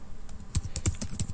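A computer keyboard being typed on to enter a terminal install command, with a short run of quick, fairly close key clicks at an uneven rhythm and no voices.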